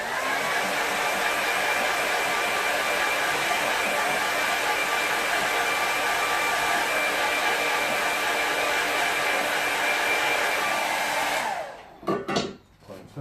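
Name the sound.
hair dryer drying paint on board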